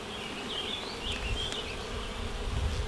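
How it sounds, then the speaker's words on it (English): A continuous low buzz of many honey bees in a hive hums throughout, with a few thin high tones drifting over it and no voices. "I can already just see all of the bees"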